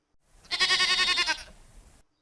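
A single sheep gives one clear, wavering bleat that lasts about a second, close and fairly loud, then trails off into quiet.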